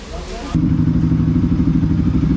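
A Bajaj NS200 motorcycle with an aftermarket exhaust idles on a cold engine, a steady, loud, throbbing burble that starts abruptly and carries on evenly at close range.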